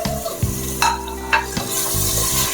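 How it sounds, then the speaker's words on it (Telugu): Tomatoes frying in a pan for a gongura pulav, with an ongoing sizzle broken by several spoon strokes against the pan, loud and close with a low hum underneath. "ఇది ఫ్రై అయిపోయింది కదా ఇప్పుడు ఇందులోకే మనం టమాటా వేసుకొని మగ్గించుకుందాం మంచిగా"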